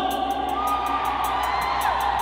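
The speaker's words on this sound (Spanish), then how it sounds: "Vamos a gritar todos juntos." A live concert crowd at a Mexican regional music show shouts and cheers together in a loud, sustained roar, with whoops rising over the dense crowd noise throughout.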